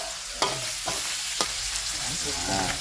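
Pork belly stir-frying with holy basil in a pan, loud continuous sizzling punctuated by several sharp scraping strokes of the spatula, up close.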